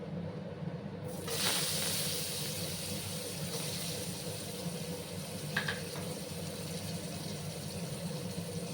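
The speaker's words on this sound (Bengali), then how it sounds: "এবার আমি ওই তেলের মধ্যেই প্রথমে আমি আলুগুলো দিয়ে দেবো" Potatoes go into hot frying oil and set off a soft, steady sizzle that swells at first and then settles into a quiet hiss with a few faint clinks.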